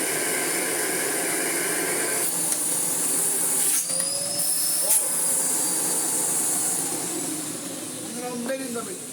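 A restored Miele Blizzard vacuum cleaner fitted with a Dyson motor runs with a steady, loud airflow roar and whine, pitch shifting slightly as the hose is handled, with a voice talking over it.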